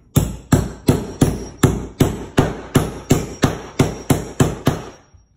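Hammer tapping a protective metal nail plate onto a wooden stud: twelve sharp, evenly spaced metallic blows, each ringing briefly, close and loud, with nothing else heard.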